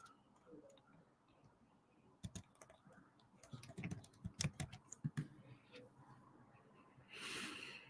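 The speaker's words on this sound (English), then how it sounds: "Let me just type again." Typing on a computer keyboard, a quick run of crisp key clicks in the middle stretch with a faint rustle before it and a brief hiss near the end, close and fairly quiet.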